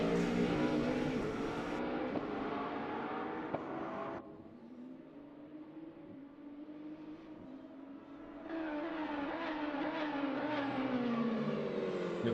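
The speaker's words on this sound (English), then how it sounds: "So you will still hear the cars" Race cars at Spa Francorchamps in a racing video game, engines droning loudly and continuously, dipping to a lower, quieter run in the middle before rising again.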